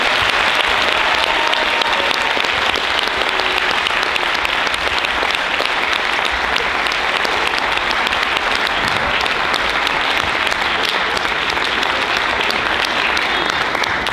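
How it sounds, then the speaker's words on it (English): A school audience at a Christmas show claps as grade 4 students leave the stage, a loud, unbroken wall of many hands that holds at an even level throughout. "giving them a last round of applause"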